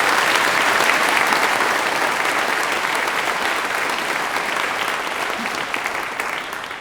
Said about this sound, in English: I'm not really allowed to join in the clapping up here.